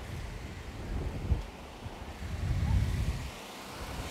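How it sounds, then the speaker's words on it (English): Wind at a motor racing track, gusting and buffeting against the microphone as a low, uneven rumble that swells and fades, close and moderately loud. "It's getting a little windy here."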